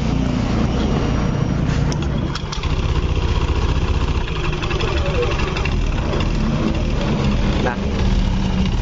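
A Honda Beat scooter engine with a weakened cam chain tensioner runs steadily at idle, a loud, continuous mechanical drone with a faint rattling texture close by, and a brief dip partway through.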